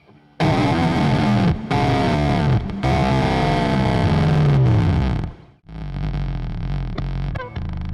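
Heavily distorted, fuzzy electric tones from a 2mult Audio Panic Room distortion effect sustain loudly for several seconds, cut out briefly, then return with a thinner, crackling distorted texture.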